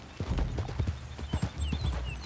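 A horse's hooves clip-clop steadily in the video game Red Dead Redemption 2, a close rhythmic series of thuds with faint whinny-like tones, no speech heard.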